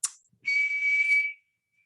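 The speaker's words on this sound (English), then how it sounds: "For sound, if I whistle," A person blows one clear, high whistle that holds a steady pitch for under a second, close and alone, after a brief breathy hiss.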